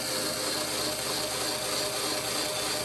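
A guitar tuning peg turns to wind a nylon string, giving a faint, continuous grinding click with an even, mechanical texture that lasts a few seconds.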